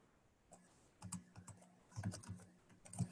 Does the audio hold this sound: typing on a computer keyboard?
yes